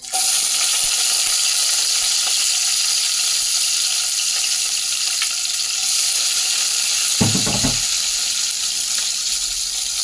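Onions fry in a pan for a chowmein dish, giving a steady, loud sizzling hiss throughout. A brief knock of utensil against pan sounds near the end.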